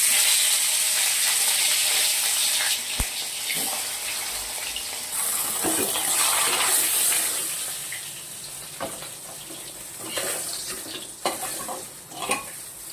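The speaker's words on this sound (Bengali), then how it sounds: "এই যে তেলাপিয়া মাছের ঝাল করব। মাছগুলো আমি একটু হালকা ভেজে নেব।" Tilapia fish pieces frying lightly in a pan give a continuous close sizzle and crackle, broken by scraping and stirring clatter and a few sharp knocks, with no one talking.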